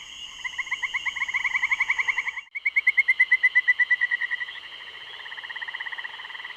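Tree frogs call in a nocturnal chorus of rapid, evenly pulsed trills that overlap and run continuously, one pausing briefly before others carry on, loud and close.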